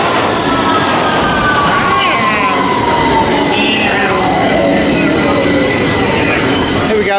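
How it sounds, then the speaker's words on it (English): An underground tube train pulls into a station, a loud continuous rumble with squealing wheel tones gliding downward as it slows, filling the whole stretch with steady roaring noise. "And here comes our train."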